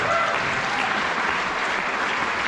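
Steady, dense applause from a theater audience cheering a live band, close and full throughout with no clear voices above it.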